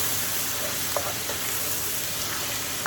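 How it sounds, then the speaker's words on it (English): Chicken dinner sizzling in a hot pan as a spoon stirs and mixes it, a steady close frying hiss with faint scrapes and taps from the spoon, and no talking. "My dear spoon comes in now, and I'm going to get it all mixed up in there."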